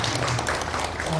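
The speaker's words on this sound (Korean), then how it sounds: "그럼 박수 한번 주시죠." A seated crowd claps together during a briefing for the 2023 Cheongju Craft Biennale festival. The dense, even applause fills the hall for just over a second.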